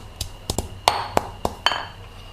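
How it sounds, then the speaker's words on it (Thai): Lemongrass being pounded coarsely in a stone mortar, heard as about eight sharp, clinking pestle strikes in an uneven rhythm, close and fairly quiet. "การจะโขลกตะไคร้นะคะ หยาบหยาบแบบนี้ไว้ก่อนค่ะ"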